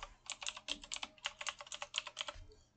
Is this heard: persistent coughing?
no